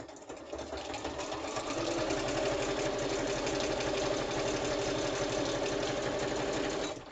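A sewing machine stitches through a paper note pad in one continuous run, its fast mechanical whir and rapid needle clatter loud and close, starting and stopping cleanly with no talking.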